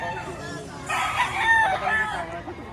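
A rooster crows loudly nearby, a long strained call rising and falling over a quieter murmuring background.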